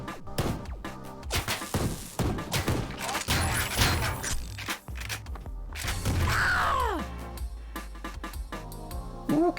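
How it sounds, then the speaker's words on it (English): Pistol shots in the retro shooter Ion Fury crack out as a string of sharp hits amid game clatter, thuds and impacts, followed by whooshing effects and a descending whine. "Pistol headshots"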